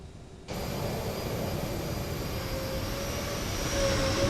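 Steady, broad engine roar of a CRJ-900 jet at idle thrust taxiing in Microsoft Flight Simulator, starting abruptly and holding even with a faint high whine, loud and close with no speech.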